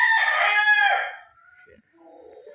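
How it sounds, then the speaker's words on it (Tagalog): A Gilmore Hatch rooster at a farm lets out a single loud, close crow lasting about a second, then fades into quiet farmyard background sounds with a faint distant call. "Gwapong manok oh."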